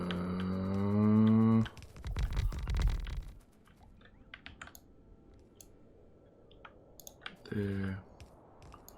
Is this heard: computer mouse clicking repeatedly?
yes